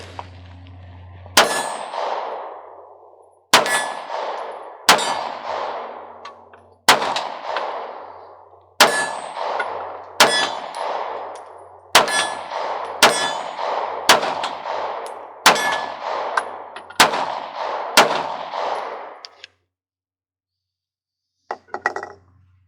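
A Smith & Wesson Bodyguard 2.0 pistol fires about eleven sharp, loud shots at an uneven pace with pauses between them, each crack ringing briefly before the next, followed by a faint clatter at the end.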